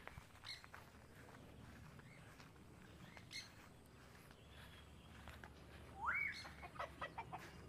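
Chickens being fed kratom leaves cluck and call faintly amid a quiet outdoor background, with one louder squawk rising near the end and occasional rustling footsteps.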